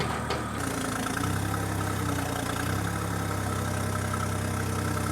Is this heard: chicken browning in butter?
no